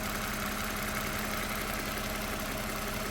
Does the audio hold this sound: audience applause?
no